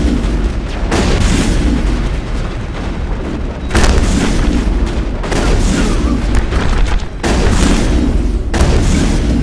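Dense, continuous gunfire and booming impacts during a Mass Effect firefight, loud and close throughout, with heavy low rumble and occasional sharper cracks.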